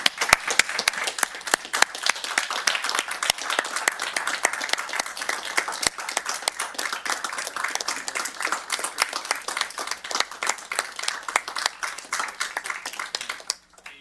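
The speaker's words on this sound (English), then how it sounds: "let's give her a very embarrassing round of applause" Sustained applause from the audience at a special Board of Supervisors meeting, with dense, steady clapping for about fourteen seconds that cuts off abruptly at the end.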